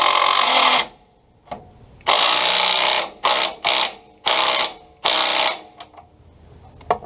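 A 12 volt power ratchet tightens radiator bolts on a Willys flat fender CJ2a jeep, running in loud whirring bursts separated by short pauses, with several quick stop-and-go pulses in the middle.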